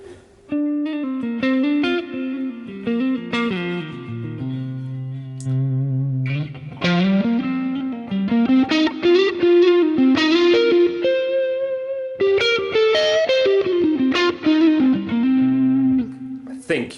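Electric guitar played through a dual-amp preset on an HX Stomp and Helix, modeled on a Dumble and a Deluxe Reverb, ringing chords and melodic lines with warm overdrive and reverb, continuous and loud with no voice.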